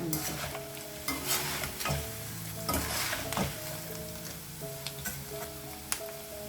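Makhana (fox nuts) fry in hot oil with a lively, close sizzle, broken by the repeated clatter and scrape of stirring in the pan. No one speaks.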